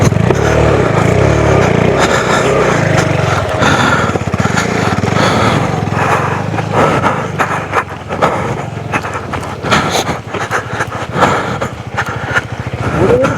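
A Royal Enfield Scram 440 motorcycle pulls away off-road, its engine loud and rough throughout, with gritty scraping, bumps and clatter from rough terrain.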